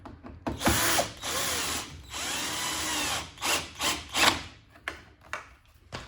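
A power drill drives a screw into the door latch of a Siemens tumble dryer, several whirring bursts of varying length, the longer runs steady and the later ones short and stuttering, close and fairly loud.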